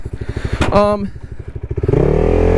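A CFMOTO 300SS liquid-cooled sport motorcycle chugs close by in quick, even pulses, then revs up into a steady, louder drone; a voice briefly cuts in partway through.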